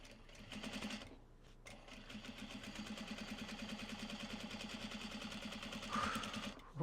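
A sewing machine runs a steady, continuous stitching line through Japanese fabric while sewing a Traveler Sling bag, its rapid mechanical hum close and even, with a brief pause near the start and no talking.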